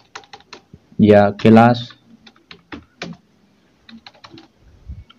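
Bursts of clicky typing on a computer keyboard, short key taps in small clusters with pauses, close and clear, with a brief spoken phrase in between.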